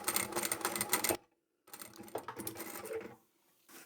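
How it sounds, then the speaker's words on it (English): A sewing machine stitches a fabric coin pouch made from scrap fabric, running back and forth over a seam. It comes in two close bursts of rapid mechanical clatter split by a short silent pause. "I'll sew over it, but then I'll go back over it again and then forward again."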